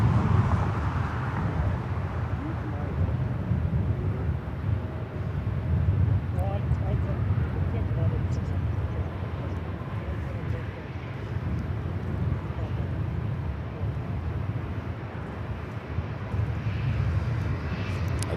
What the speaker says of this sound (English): Next arrival is the flight coming in from Vegas, the 737 MAX 8, Southwest Airlines Flight